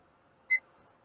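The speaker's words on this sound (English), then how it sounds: "I got to set my timer first." A single short electronic timer beep sounds once, clear and alone against quiet background.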